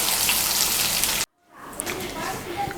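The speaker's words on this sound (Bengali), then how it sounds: "বেগুনগুলোকে লাল করে ভেজে নিয়েছি" Eggplant slices frying in oil in a kadai, a steady close sizzle that cuts out abruptly, then returns quieter with faint clinks.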